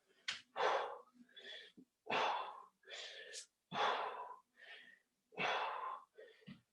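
Heavy, rhythmic breaths during a HIIT workout come in about six strong, breathy bursts separated by short pauses, close and loud with a strained, wheezing edge.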